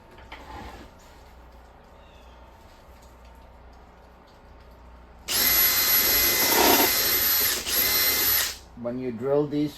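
Power drill driving screws into the front panel of a wooden bluebird house: a loud, close whirring burst lasting a few seconds after quieter workshop sounds, followed by a voice talking.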